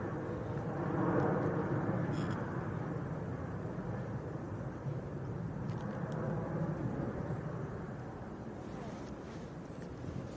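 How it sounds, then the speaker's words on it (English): Aer Lingus Airbus A320 arriving from Dublin: a steady, fairly distant jet rumble with wind buffeting the microphone, fading slightly toward the end. "Next to land there, Lingus from Dublin,"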